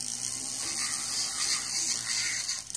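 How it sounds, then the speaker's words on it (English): A Dremel rotary tool with a coarse wheel grinds along the sharp edges of enamel at speed, giving a steady, close, high-pitched whir with no talking. "get it going at a good speed and just sand where you have the sharp edges"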